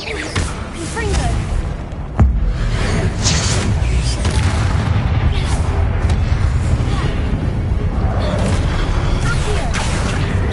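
A Confringo blasting spell explodes in a Harry Potter–style video game as a sharp boom, then rumbling, whooshing and crashing debris sustain loudly for several seconds under a voice casting spells.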